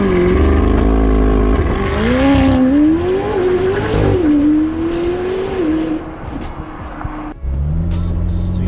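A McLaren 750S Spider engine, top down, hums and revs steadily up close, its pitch rising and falling as it accelerates, with a sharp drop near the end before it picks up again.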